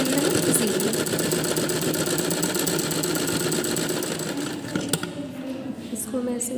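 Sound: sewing machine stitching a frock

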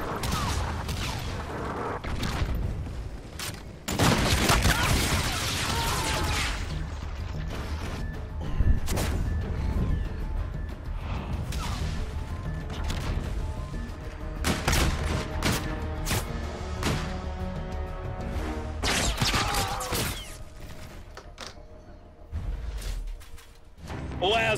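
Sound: Trinity rocket strike in Call of Duty Infinite Warfare video game

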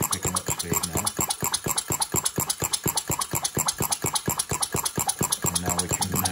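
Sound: engine running and picking up speed

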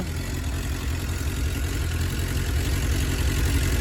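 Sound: Suzuki GSX 600R motorcycle engine idling

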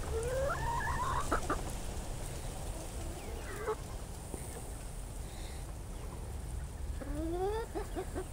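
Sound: chickens: Buff Orpington, Americanas and Whiting True Blues

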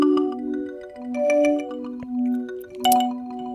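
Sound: granular synthesis pad made from marimba samples

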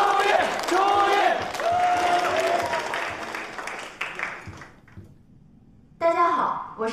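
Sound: audience applause welcoming a student on stage

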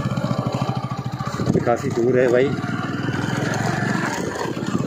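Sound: motorcycle approaching on a village road at night

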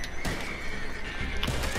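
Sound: horse neighing in the video game Red Dead

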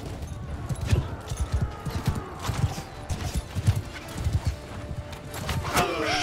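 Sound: horse hooves in video game Bannerlord, The Old Realms mod

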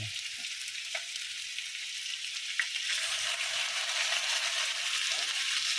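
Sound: sautéing food in a pan

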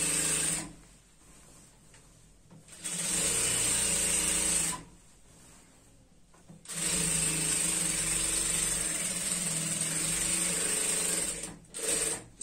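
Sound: sewing machine stitching salwar edge

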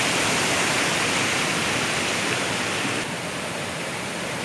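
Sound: Kaigal waterfall in Chittoor district

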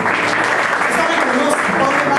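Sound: applause

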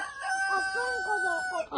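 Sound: chickens clucking and crowing

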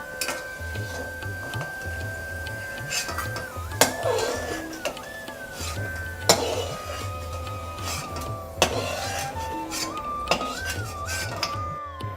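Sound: fried potatoes transferred into a vessel, utensils clinking

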